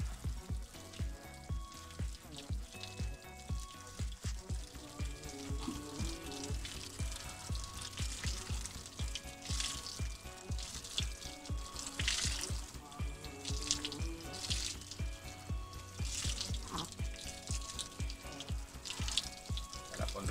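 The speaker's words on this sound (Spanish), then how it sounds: "Mira cómo sale el agua sucia, ¿lo veis?" Dirty water running out of a variegated elm's root ball during transplanting, a steady close crackling trickle and patter with a sizzling texture, continuing without pause and without speech.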